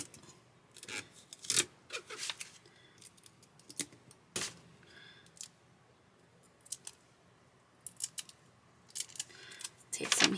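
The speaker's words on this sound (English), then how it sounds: "Take some heat tape and just tape it down." Heat tape is pulled and cut close by for a sublimation project on an Apple Watch band, heard as a series of short, sharp rips and snips scattered over quiet stretches.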